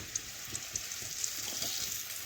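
Potatoes fry in hot oil in a pan with a continuous close sizzle and hiss, dotted with small crackling pops throughout.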